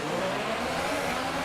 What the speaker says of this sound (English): You can hear those revs.